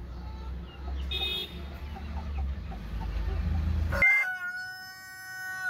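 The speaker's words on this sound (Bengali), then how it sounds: "কিছু মুরগি এখান থেকে পানি খাচ্ছে কিছু মুরগি খাবার খাচ্ছে" Hens on a poultry farm cluck and crow faintly over a steady low rumble of farm noise, with a short horn-like tone and ringing tonal sounds near the end.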